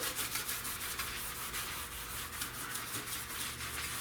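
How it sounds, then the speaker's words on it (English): Scuff pad rubbed steadily over a car dash pad during prep before dyeing, a continuous close sanding scrub with even rhythmic strokes and no talking. "I want to scuff this really, really good."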